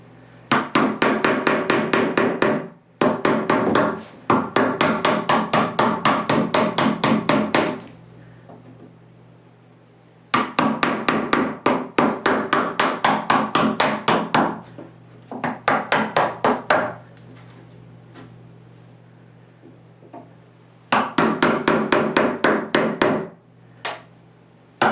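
A hammer taps a wood chisel to cut a hinge recess in a new blank door, with rapid bursts of sharp, evenly spaced knocks separated by brief pauses, loud and close with no talking.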